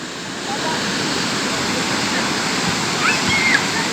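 Muradiye waterfall pours steadily into its canyon, a loud, continuous broadband roar of rushing water heard up close with no break, and a few faint high chirps rise briefly near the end.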